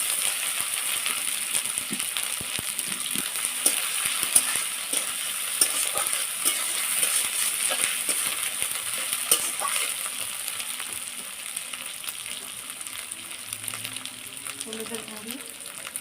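Ginger-garlic paste frying in oil, with a bright, continuous sizzle and scraping stir strokes and small metallic taps throughout, loud and close.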